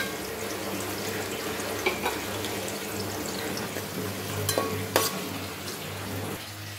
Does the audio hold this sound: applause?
no